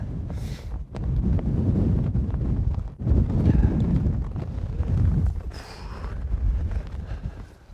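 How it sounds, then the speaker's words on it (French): Strong wind buffets the microphone on a golf course, a loud, low roaring rumble that gusts and dips in surges, with brief lulls between blasts. "On a le vent en plein dans la gueule"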